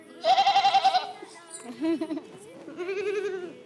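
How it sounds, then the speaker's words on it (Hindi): A goat bleats in three loud, close calls, the first a long wavering cry and the later two shorter and lower, heard on its own without talk. "अब मैं आपको बकरी की तस्वीर दिखाती हूँ और उसकी आवाज एक और बार सुनाती हूँ।"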